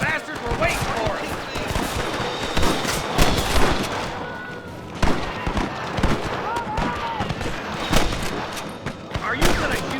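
Repeated gunshots crack through a Red Dead Redemption gunfight against rustlers, irregular bursts of close and mid-distance fire layered over game noise, with shouted voices talking throughout.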